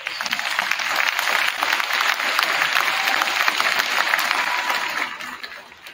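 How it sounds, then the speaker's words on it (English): Steady applause for freshman boys' basketball players at a high school gathering, dense clapping from a crowd sustained evenly throughout before tapering at the end. "let's give these guys a round of applause"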